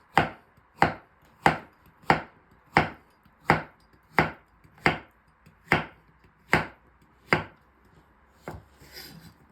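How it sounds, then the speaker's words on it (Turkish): A knife chops through zucchini on a cutting board in eleven even, sharp strokes, close and clear, followed by a faint rustle. "kabaklarımızı da biberlerle aynı kalınlıkta doğruyoruz"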